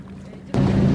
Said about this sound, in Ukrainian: Відповідальний за пляжі Володимир Матушевич приїздить повз молодіжний пляж на катері